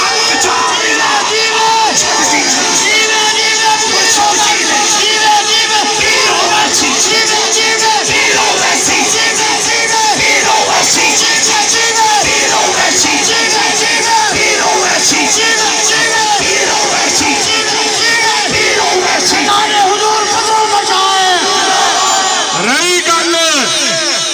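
A large religious gathering roars a chanted response to the call Naara-e-Takbeer, a dense, loud mass of many voices shouting together without pause.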